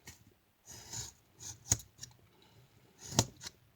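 Scissors snipping Dollar Tree craft material in a few separate cuts, with two sharp loud snips standing out among softer ones, close and quiet with no talking.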